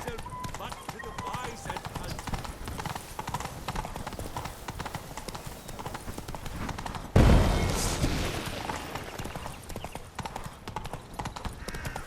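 Roach, the horse in The Witcher 3 (Blood and Wine), gallops in a steady, loud clip-clop rhythm throughout, with a sudden burst of heavier noise partway through before the hoofbeats continue.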